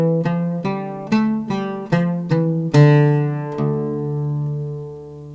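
An oud plucks an ascending Nahawand pentachord, the Arabic jins akin to a Western minor scale: about seven clear, close-miked notes in steady rhythm, the last one left ringing and slowly fading, with no voice over it.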